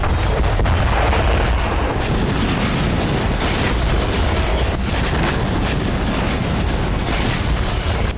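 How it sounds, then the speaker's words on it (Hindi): Loud, continuous rumbling with repeated heavy booms and blasts, dense and unbroken, from explosions and rocket fire close by near a hospital in Gaza. "अस्पताल के आसपास लगातार धमाके हो रहे हैं"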